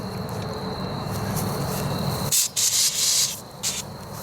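A car fire extinguisher sprays in a few sharp hissing bursts near the microphone, each lasting under a second, following a steady background of insect-like chirping.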